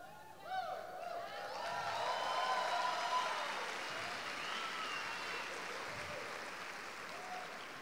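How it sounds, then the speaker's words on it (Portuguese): A church congregation applauds, a broad swelling wash of clapping that rises, holds steady and slowly thins, with voices mixed into the crowd noise. "Os irmãos aplaudiram de boa vontade"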